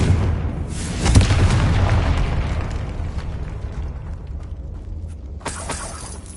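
Confringo explosion spell cast in the Hogwarts Legacy video game, a heavy booming blast with crackling debris that rolls on and fades, followed by a second softer burst near the end.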